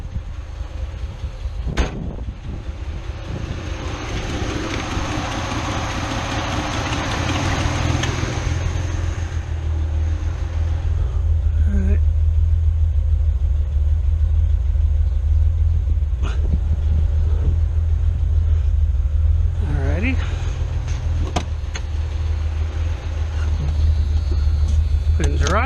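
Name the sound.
carbureted 1981-85 Ford Mustang engine idling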